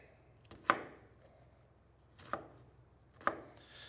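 A knife makes three separate vertical cuts down into an onion on a cutting board, each a crisp, quiet tap against a faint low hum.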